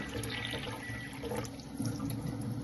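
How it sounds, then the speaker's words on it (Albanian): A glass fills from the spout of a Kangen water ionizer, a steady close stream of running water pouring continuously without pause. "Dhe unë do të mbushi këtë gotën këtu me këtë ujë, edhe këtë gotën këtu me këtë ujë."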